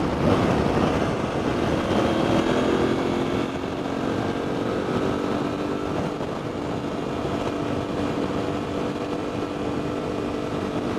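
A steady Aprilia Tuareg 660 motorcycle engine drone hums continuously throughout, a constant mechanical rumble with a slightly louder stretch at the start and no voices.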